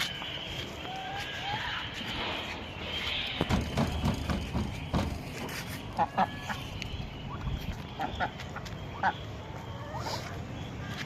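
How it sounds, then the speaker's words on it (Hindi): Ducks honking and quacking nearby, with a few louder sharp calls standing out over background noise and light chatter. "ये बत्तख है"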